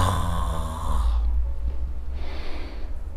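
A voice imitates the rasping, snoring breath of a thin person lying with mouth agape: a loud, close, throaty snore followed by a softer breathy draw, with no other talk.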